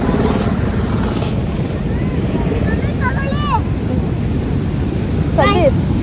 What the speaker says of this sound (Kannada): helicopter ride